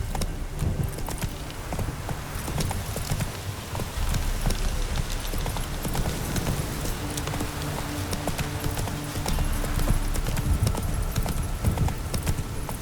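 Roach, Geralt's horse in The Witcher 3 (next-gen PC update), gallops with a steady, close clip-clop of hooves over a low rumbling ambience, continuous throughout.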